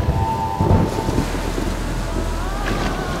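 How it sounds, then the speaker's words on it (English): A massive storm over the sea near the Maldives, with loud rumbling thunder and steady rain and wind throughout, a heavy low roll swelling early on. "a massive storm hit."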